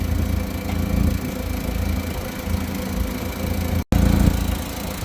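Farm tractor engine running steadily at a loud, close idle-like drone while unfolding a corn planter, with a brief dropout near the end before the rumble resumes.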